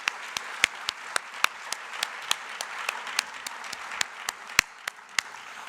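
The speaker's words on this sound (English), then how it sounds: "Let's give her another big round of applause for coming." An audience at an honorary gala gives a round of applause, the clapping moderately loud and steady with sharp individual claps standing out across the whole stretch.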